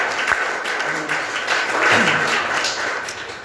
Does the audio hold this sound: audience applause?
yes